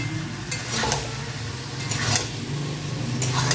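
Pumpkin and vegetables with spices are stir-fried in a pan, a steady sizzle with repeated scraping strokes of a spatula at close range over a low background hum.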